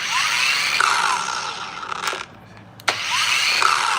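A dual action polisher with an 18 mm throw runs at speed 1, giving a close, steady motor whir that dips briefly quiet in the middle before running on again.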